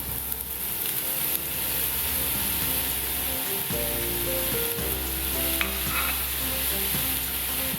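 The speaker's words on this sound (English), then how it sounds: "Lastly, saute the mushroom and spring onion." Mushroom and spring onion sautéing in a pan for japchae, a continuous close sizzle with occasional stirring scrapes and low hum beneath, no voices.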